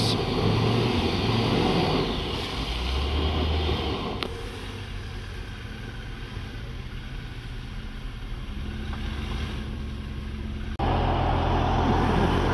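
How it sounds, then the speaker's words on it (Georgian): A car with no working reverse gear being turned around by hand, its engine giving a steady low rumble that shifts in tone partway through and rises again near the end, with no speech. "მოკლედ ამ მანქანას ვატრიალებთ უკან, იმიტომ რომ უკან ამიმართულება ანუ ზადნი აღარა აქვს"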